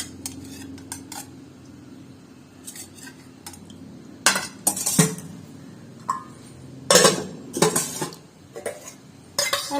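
Sambar curry being ladled onto a plate, metal utensils clinking and scraping against dishes in close, irregular bursts over a quiet room.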